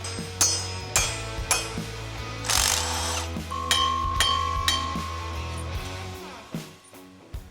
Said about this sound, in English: I've got the dowels hammered in